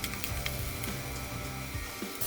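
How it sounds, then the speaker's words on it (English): Thinly sliced pork belly sears in a hot frying pan, giving a soft, steady sizzle and crackle with faint spits throughout, quiet and close with no talking. "Heat the frying pan, then add thinly sliced pork belly and sear it until it releases its flavorful juices"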